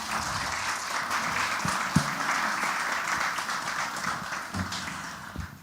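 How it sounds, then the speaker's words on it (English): An audience at a climate resilience panel on sustainable land, water and food gives the panel a round of applause, a steady wash of many hands clapping with a few louder individual claps standing out. "I'd like a big round of applause for our panel"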